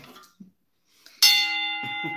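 A bell alert rings out loud and sustained during a podcast livestream, sounding suddenly after a quiet moment and holding a steady ringing tone, with a few low thumps beneath it toward the end.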